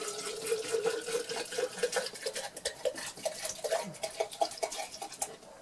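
Turps is poured into an old coffee jar, a close, trickling, splashing flow with bright liquid gurgles and a few drips, alone and uneven in rhythm.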